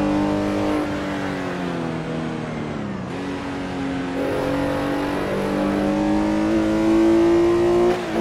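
A Porsche 906 E racing car from the 1960s, driven on a historic track in the Assetto Corsa game, holds a loud, steady engine drone that dips and rises with gear changes and throttle.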